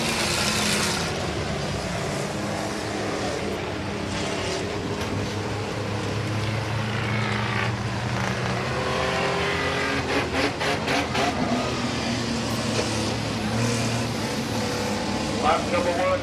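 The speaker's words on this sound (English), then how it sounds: "The 2016 trailer race is underway." Race cars circle Midvale Speedway during a trailer race, a continuous field of engines roaring and droning with passing swells, while a commentator talks throughout.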